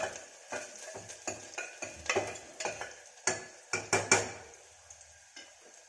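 Tadka tempering for arhar dal in an Indian home kitchen: a faint sizzle runs under repeated sharp metallic clinks and scrapes of a spoon stirring in the pan, irregular and close.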